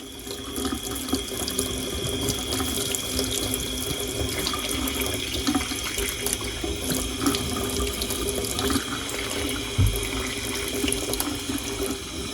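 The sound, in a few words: rinsing Shark vacuum filter under running tap water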